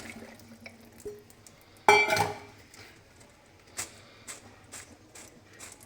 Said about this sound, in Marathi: आता आपण एका गाळ्याने ह्या शेंगदाण्याचं सगळं पाणी काढून घेऊया